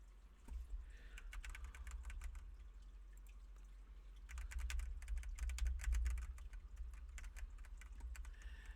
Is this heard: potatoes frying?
no